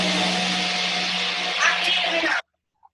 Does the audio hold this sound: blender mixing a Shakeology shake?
yes